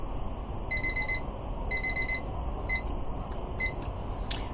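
An Uigos kitchen timer alarm sounds in bursts of rapid, piercing electronic beeps, two long clusters and then shorter ones, over a low background hum.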